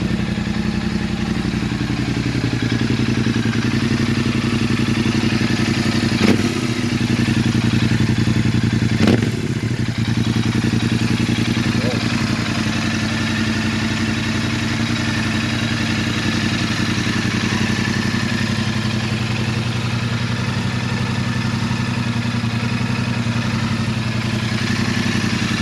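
A Royal Enfield Continental GT motorcycle runs steadily with its engine and exhaust close by, a loud, continuous thumping idle with a couple of brief sharp clicks partway through.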